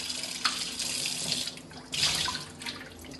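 Tap water runs steadily into a sink while food is washed, a continuous close hiss with small splashing surges as hands move the food under the stream.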